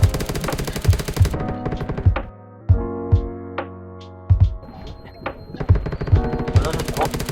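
Rapid automatic gunfire from the survival shooter Undawn, loud bursts of shots that stop for a few seconds and then return, with voices talking over parts of the action.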